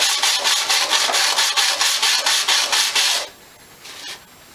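An engine part from a Honda GX160-type small engine is rubbed back and forth on a flat surface, giving a steady rhythmic rasping scrape of about a dozen strokes, then a pause and one last faint stroke.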